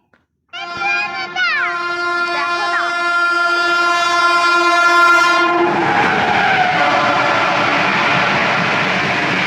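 A train horn blares loudly and steadily, then the rumble and rattle of a nearby train takes over as it keeps sounding.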